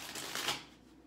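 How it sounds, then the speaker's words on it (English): A tarot card deck gets a quick, soft riffling shuffle, a brief papery burst up close that fades out within about a second. "let me give this third deck one more good shuffle"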